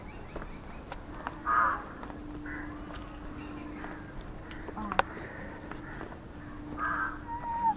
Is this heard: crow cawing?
yes